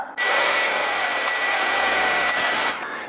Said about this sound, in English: now we're going to drill the 1/4 inch out